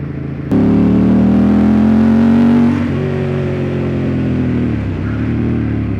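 A 2003 Ducati Monster 916 S4 motorcycle engine revs up loudly and close, with a rising tone that eases off and settles into a steady drone as the bike pulls away.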